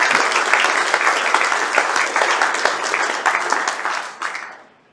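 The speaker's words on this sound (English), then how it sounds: "actually we will do some applause for this, Reg and the awards team for their work" Applause at a Rotary World Environment Day luncheon in Melbourne, a dense crowd clapping steadily at close range for about four seconds before tapering off and fading out.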